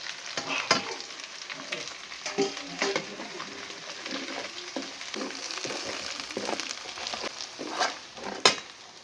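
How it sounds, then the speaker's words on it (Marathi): Turmeric, homemade masala, peanut powder and salt fry in a pan for rajma curry, giving a soft steady sizzle broken by scattered scraping stirs and a couple of sharper clinks near the end. "आता मसाला सगळा तळून घेतला"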